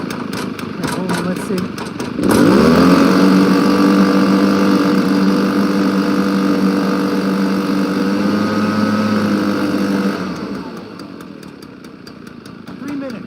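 Honda lawn mower engine catching and running at a steady, loud, close drone with a buzzy throttle tone, then dropping back toward a lower idle; someone talks briefly as it runs.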